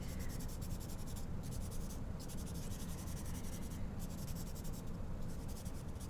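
Charcoal stick scratching and rubbing across paper while sketching a tree's shadow in a landscape drawing, a steady close dry scraping texture running throughout with brief pauses between strokes.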